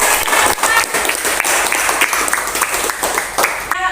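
A classroom of students gives brisk applause in a lesson on Islamic civilisation, dense close clapping that holds steady for a few seconds, with a few voices mixed in.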